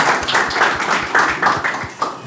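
A small classroom group gives a short round of clapping for a student, with uneven individual claps in a loose rhythm, close and fairly loud.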